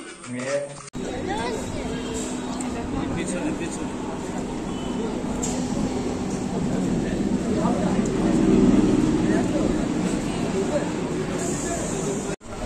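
Crowded passenger train heading toward Naihati, with a steady low rumble of the carriage under a constant hubbub of many voices chattering around the listener.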